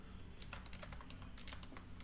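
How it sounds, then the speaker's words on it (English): Rapid typing on a computer keyboard, close and crisp, with irregular quick keystrokes clattering continuously alone. "I'm trying to type without looking at the keyboard"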